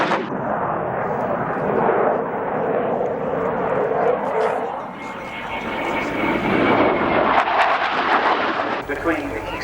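A loud, steady military battlefield helicopter engine drone dominates throughout an air show display, with sharp bangs scattered over it and voices faintly mixed in.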